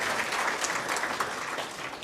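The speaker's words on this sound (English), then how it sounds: "Another round of applause for Mr. Michael Odhiambo." At an anti-corruption conference, the audience gives moderately loud, steady applause that carries on without a break across the whole stretch, with no voices heard.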